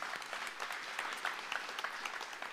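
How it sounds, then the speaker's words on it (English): A church congregation claps for baptism candidates on a Sunday service, a short burst of soft, fairly distant applause with individual claps audible through the wash. "And we want to applaud them for that."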